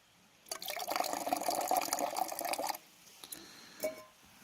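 Water poured from a container into a camp meal pouch at a campground: a steady trickling splash for about two seconds, then it stops, followed by a few soft drips and rustles.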